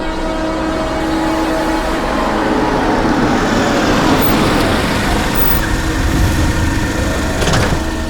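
A car engine runs with trouble, giving a loud, steady, rough drone throughout with no voices.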